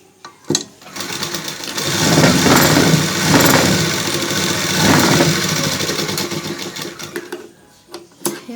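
An electric sewing machine stitches a salwar, a near, steady whirring buzz of rapid stitching lasting several seconds, rising and falling slightly in speed, bracketed by a few sharp clicks and handling knocks.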